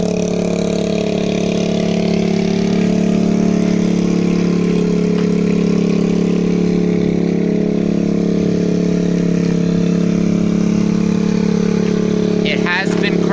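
A 2013 TaoTao 50 moped engine idles steadily close by, a constant loud buzzing drone that holds even throughout, with a brief click near the end.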